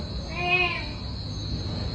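A cat gives a single short, drawn meow, fairly faint against a steady background hum, with quiet noise following it.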